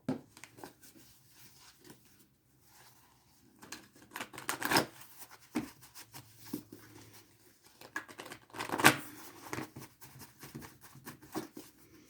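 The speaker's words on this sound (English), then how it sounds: "These cards are so flimsy now. They have a hard time shuffling." Flimsy, thin tarot-style cards being shuffled by hand, heard up close and quiet as soft, irregular riffling patters and flicks in scattered bursts, with brief pauses between them.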